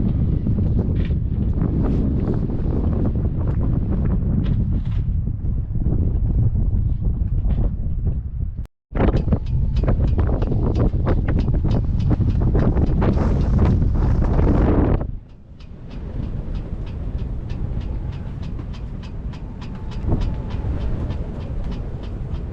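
Strong gusty wind buffeting the microphone on a sailing yacht anchored near Olbia, Sardinia: loud continuous roaring rumble, briefly cut out, then resuming, and easing to a lighter rush in the final stretch.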